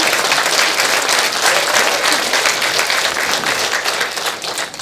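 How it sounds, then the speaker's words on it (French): An audience at a Vierzon working-commission presentation applauds steadily, a loud dense wash of many hands clapping that fades slightly at the end. "je vous demande d'applaudir, s'il vous plaît"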